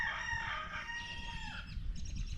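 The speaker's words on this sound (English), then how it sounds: "pretty Ricky crowing." A rooster crows outdoors in a single long, clear call that rises and trails off, fairly close and loud against a quiet, slightly windy background.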